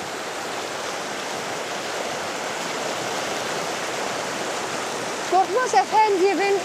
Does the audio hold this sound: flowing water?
yes